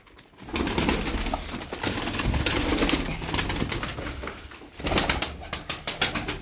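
Crested pigeons coo in soft, throbbing calls close by, repeating in uneven bursts over a rustling background, with a few fluttering sounds and no talking.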